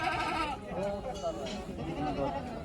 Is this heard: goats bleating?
yes